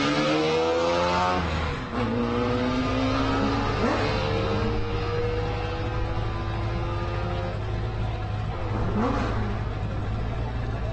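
An off-road race car engine revs and idles at the SCORE Baja 400 starting line, loud and close, rising and falling in pitch over a steady low drone, with an announcer's voice faintly mixed in.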